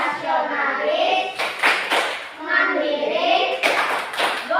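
Schoolchildren in a classroom performing a rhythmic clapping chant, bursts of group hand claps alternating with chanted voices in a steady pattern, close and lively.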